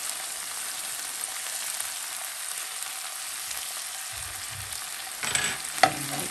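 Chicken with green peas and spice blend stir-frying for a noodle stir fry: a steady, even sizzle hisses throughout, then a few louder stirring knocks and scrapes come near the end.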